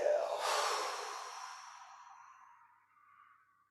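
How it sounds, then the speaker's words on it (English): A long, breathy exhale during a Wu Dang style qigong exercise, strongest at the start and slowly fading to silence over several seconds, close and alone. "Exhaling. Inhaling."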